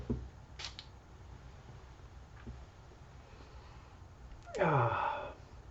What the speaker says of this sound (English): So let's get a little bit of a spray going on here.